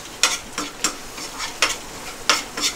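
Ginger garlic paste fries in a pan with a steady sizzle, broken by regular scraping stirs about every half second, close and clear with no talking.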